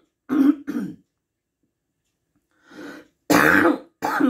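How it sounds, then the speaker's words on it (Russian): A woman coughs and clears her throat nearby, two rough bursts followed by a pause and then a heavier hacking clearing, loud and close in a quiet kitchen. "Ой, надо же, кашель прицепился."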